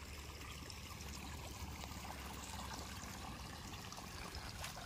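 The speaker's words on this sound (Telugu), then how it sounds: "మీరు బోర్ ఎంతసేపు చూసినా ఇంతే వస్తుంది, ఫుల్ వస్తుంది." Bore well water flowing out at full volume on a farm plot in Jangaon district, a faint, even, continuous rushing trickle with no voices over it.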